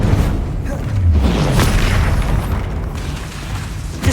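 The Expelliarmus spell is cast in the video game Hogwarts Legacy, producing a loud burst with a whooshing magical swell and rumbling impact in the middle of noisy combat, close and dense for a few seconds.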